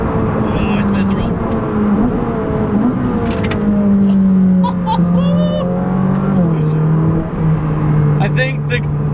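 A Ferrari 458 Speciale engine sustains a loud, steady drone that swells and falls as it revs under acceleration, with wheel spin and a brief shift-like dip. Voices talk over it throughout.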